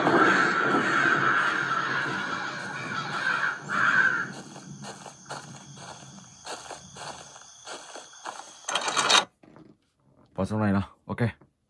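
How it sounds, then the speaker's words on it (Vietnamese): A flock of crows caws in the Slendrina horror video game, repeated harsh calls mixed with other game sounds, with a voice talking over part of it. "Tiếng kêu của đàn quạ."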